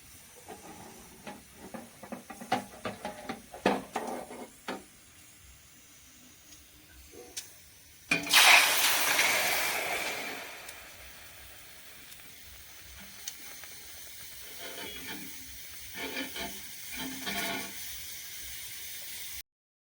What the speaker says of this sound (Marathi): कात्री गरम होते त्यामुळे कपड्याने पकडून पाण्यामध्ये टाकायची आहे